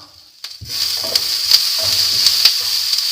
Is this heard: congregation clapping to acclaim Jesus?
no